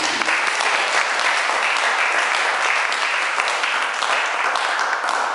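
An audience at a church service applauds and cheers, giving a dense, loud, continuous wash of clapping from start to finish.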